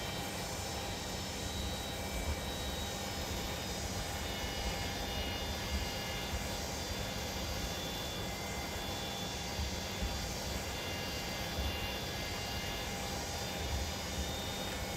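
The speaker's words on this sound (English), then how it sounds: "Well, look at that 787. Got an airplane departing." A Boeing 787 departs a runway in a flight simulator video game, its engines giving a steady, even jet roar with a faint whine, continuous and unchanging throughout.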